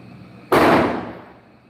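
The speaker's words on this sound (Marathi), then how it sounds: "बाई फटाक्यांचा आवाज" A single loud firecracker bursts outdoors with a sharp crack, then a roaring wash of noise that fades over about a second, with no voices.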